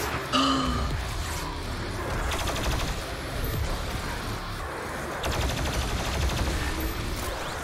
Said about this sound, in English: I'll just take my regular plasma rifle.